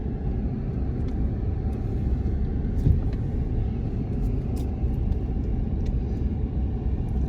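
Steady low road rumble from inside a car cruising and turning around on South Padre Island, Texas, with a constant engine and tire drone and occasional faint clicks, no talk.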